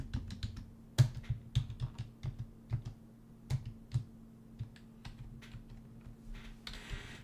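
Quiet, irregular keystrokes tap on a computer keyboard at close range, with uneven bursts of clicks and short pauses over a low steady electrical hum.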